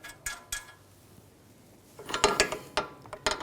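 A ratchet wrench fitted with a 19mm socket tightens a nut on a Volkswagen Jetta's front steering rack, giving a few sharp metallic clicks and clanks, then a quicker cluster of ratcheting clicks close by.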